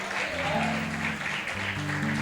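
A church congregation claps during a sermon, a dense wash of applause mixed with a low sustained tone, steady and moderately loud throughout.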